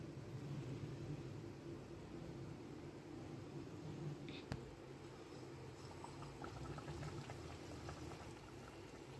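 Green chili bajji frying in a pan of hot oil for deep frying, a steady close bubbling sizzle that holds evenly throughout with a brief sharp tap midway.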